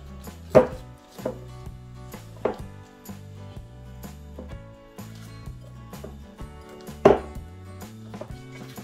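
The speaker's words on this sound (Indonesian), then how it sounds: "Ini ada satu potong daging nih dipotong kecil." Meat being chopped into small pieces for a Lunar New Year dish, sharp knife strikes on a board landing irregularly, a few loud close chops standing out over music.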